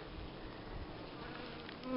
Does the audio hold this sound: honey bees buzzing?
yes